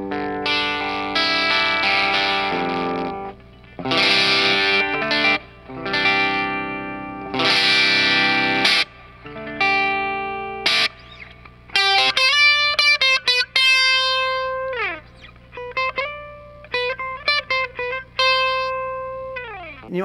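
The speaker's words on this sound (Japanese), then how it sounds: "ボスモードでメインの歪みの音ですね" Electric guitar played through a BOSS JB-2 Angry Driver distortion pedal in its Blues Driver mode, heard alone: loud overdriven chords and sustained distorted single notes, with dynamics shifting between softer and harder picking.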